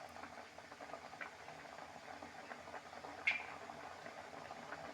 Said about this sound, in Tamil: இப்போ கொதி வருது பாருங்கள்.